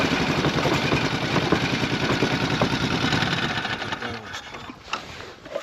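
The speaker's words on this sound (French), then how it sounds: "Et le moteur il reste sur le cylindre gauche." Ural sidecar motorcycle engine idling on only its left cylinder, a loud, steady, rapid chugging close by that fades slightly toward the end.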